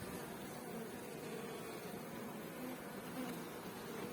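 Honey bees buzz at a beehive as a soft, continuous hum, a faint swarm drone with no voices over it.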